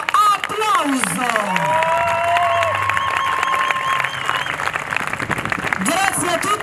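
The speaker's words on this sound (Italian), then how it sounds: "E direi che si meritano un caloroso applauso." Audience at a fair in Naples' Mostra d'Oltremare claps and cheers after a performance with a mascot, steady crowd noise with whistles and voices mixed in throughout, loud and sustained.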